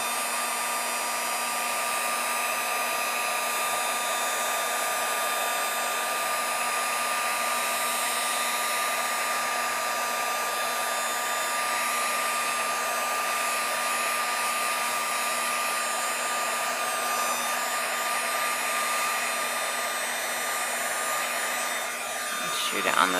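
A heat embossing tool blows hot air in a steady, loud, unbroken whir for over twenty seconds, alone and close, cutting off abruptly at the end.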